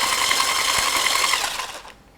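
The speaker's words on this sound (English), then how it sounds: "I'll use my whisk attachment on my immersion blender, and then I'm gonna mix these just until they're blended" An immersion blender fitted with a whisk attachment whirs steadily through gluten-free banana cake batter, a close, busy mechanical buzz that fades and cuts off near the end.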